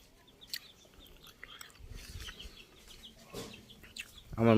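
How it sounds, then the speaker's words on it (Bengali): Chickens and small chicks clucking around a home garden, soft scattered clucks and peeps at moderate distance, with a louder bird call close by at the very end. "আমার মুরগির ছানাগুলো দেখছেন?"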